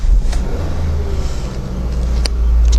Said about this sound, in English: let's fire the car up a second.